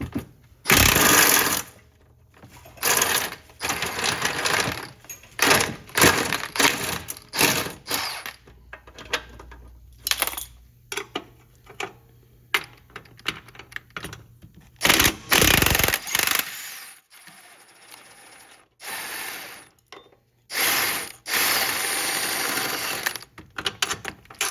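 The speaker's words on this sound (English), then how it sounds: "Now we're going to remove the rear control arm, 18mm nut, and then the bolt head is also an 18mm." Air impact wrench and hand tools loosening and removing the 18mm nut and 18mm bolt from the rear control arm on a BMW E60 M5 or E63 M6 during subframe removal; loud, repeated bursts of hammering rattle with short pauses between them.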